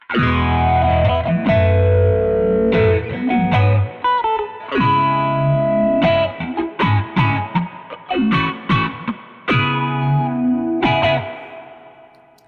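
An electric guitar plays chords and runs through an Old Blood Noise Float dual moving filter pedal set to sine waves, its tone swelling and shifting steadily, loud and continuous.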